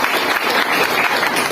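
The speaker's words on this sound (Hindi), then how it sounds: "हम चाहेंगे उनके लिए एक बार जोरदार ताली होनी चाहिए" Audience applause at a gathering, a brief, dense and loud burst of many hands clapping steadily without pause.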